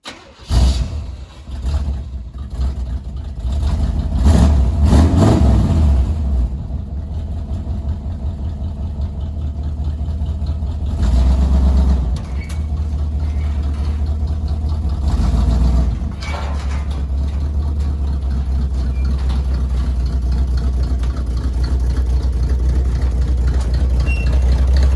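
A Chevelle's engine rumbles loud and close as the car is driven off a trailer, with a throaty start, several revving surges, then settling into a steady deep idle that continues to the end.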